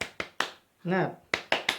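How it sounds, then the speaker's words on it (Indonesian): A classroom group doing a rhythmic Indonesian clapping chant: three sharp, close claps, a short pause, a single voice chanting a word, then three more claps in the same pattern. "Tepuk semangat."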